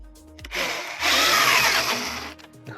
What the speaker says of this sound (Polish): mamy wiertarkę